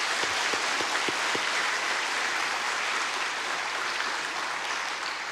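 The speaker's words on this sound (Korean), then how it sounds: "박수 한번 할까요?" A church congregation applauding during a Sunday morning service, a continuous, even roar of many hands clapping, fairly distant and sustained throughout, with a few distinct claps near the start.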